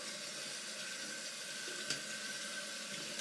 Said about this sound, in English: I do a hot rinse.